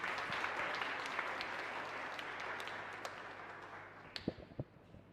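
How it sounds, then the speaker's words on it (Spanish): A church congregation at a live Mass in a chapel in Fernando de la Mora gives sustained applause, soft and somewhat distant, thinning into a few scattered claps at the end. "este fuerte aplauso que la comunidad le brinda"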